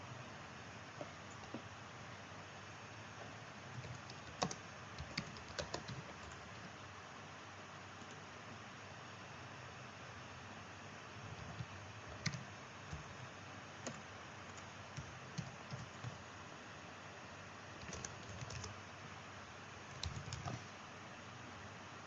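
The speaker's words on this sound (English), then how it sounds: "then we type in the text that we want." Quiet, irregular clicks of typing on a computer keyboard, scattered bursts of light keystrokes heard close by, with no talking.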